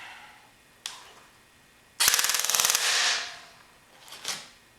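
An airsoft gun with a speed motor fires a rapid burst of about a dozen quick, evenly spaced shots, followed by a motor whir, with a few separate sharp clicks before and after.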